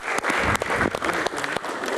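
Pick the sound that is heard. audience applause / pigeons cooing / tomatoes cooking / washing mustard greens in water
audience applause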